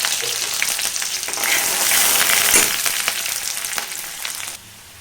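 Chopped onions and curry leaves frying in hot oil for an egg tomato curry, a loud continuous sizzle that swells midway with stirring scrapes, then drops sharply near the end.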